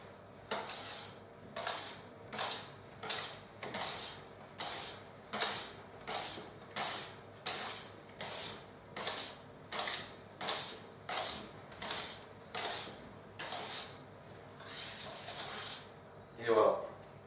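Beaten egg whites folded by hand into fromage blanc cheesecake batter with a utensil in a bowl: a steady, regular series of soft scraping strokes, roughly one per second, close and fairly quiet.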